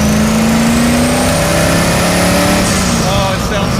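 A turbocharged Rotsun strapped to a chassis dyno revs hard and loud, its engine note sweeping upward in one sustained pull that fills the short stretch.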